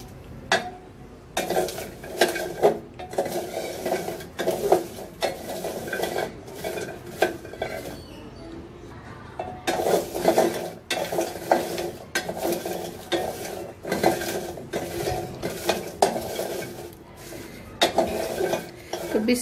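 Jackfruit seeds frying in a pan while being stirred repeatedly: rhythmic bursts of spatula scraping and clattering against the metal, with a soft sizzle underneath, close and fairly loud.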